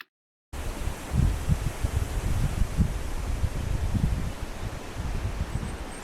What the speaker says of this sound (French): Il y a beaucoup de vent, on s'est abrité